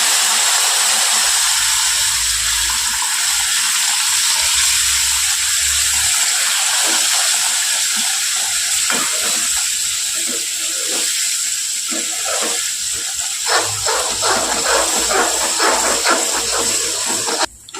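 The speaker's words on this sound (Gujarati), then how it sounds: "હવે આપણે જે ગરમ કરેલું જે પાણી છે ને એ આપણે એડ કરવાનું છે આમાં." Hot water poured into roasted rajgira flour in a pan gives a continuous loud steamy hiss and bubbling sizzle, easing slightly near the end with a few sharper crackles.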